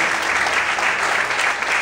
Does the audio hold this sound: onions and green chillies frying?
no